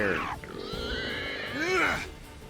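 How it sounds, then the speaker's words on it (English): Pigs grunting and squealing in The Witcher 3: Hearts of Stone, a run of loud, harmonic squeals and grunts with rising and falling pitch across the whole stretch, close and continuous. "Jeez, fucking pigs, man."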